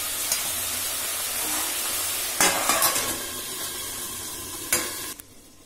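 Water poured into a pan of sizzling, fried-down spice masala for vegetarian Kashmiri aloo dum, a steady close sizzle broken by sharp bursts of spitting and hissing as the liquid hits the hot pan.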